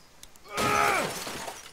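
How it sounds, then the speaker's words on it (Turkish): Window glass shatters in The Walking Dead video game: a loud, bright crash that rings for about half a second, then trails off into scattered tinkling fragments. "Camı kırdık abi."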